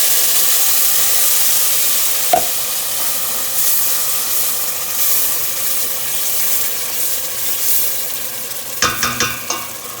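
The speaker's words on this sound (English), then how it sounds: "So I'm adding my blended ingredients." Blended spices and onion hit a hot pot of carrot rice with curry powder, giving a steady, fairly loud sizzle and hiss throughout, with a brief clatter near the start and a burst of scraping and stirring toward the end.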